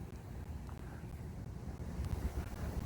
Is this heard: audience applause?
no